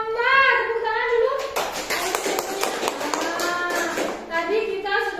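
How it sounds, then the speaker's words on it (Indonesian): Schoolchildren in a primary classroom clap their hands together in a burst of rapid, overlapping claps lasting a few seconds, framed by an adult voice speaking before and after. "Tepuk tangan dulu."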